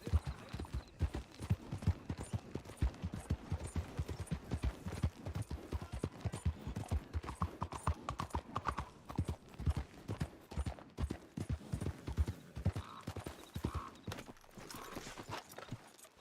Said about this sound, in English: Quédate ahí, caballo.